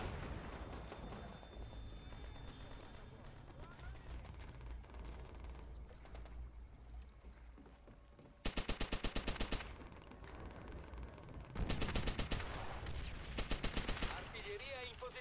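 Artillery and gunfire roar through a World War II battle in Call of Duty: World at War: a constant rumble of distant fire, then two loud, close bursts of rapid automatic shots, with faint voices in the mix.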